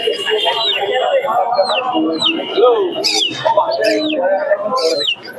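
Caged birds and pigeons at the Santipur bird market make a busy mix of chirps, tweets and soft coos at close range, with voices talking among them.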